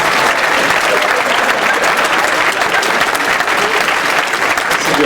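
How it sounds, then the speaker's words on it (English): Loud, dense applause from a conference audience, sustained and even throughout with no talk rising above the clapping. "A lot of applause"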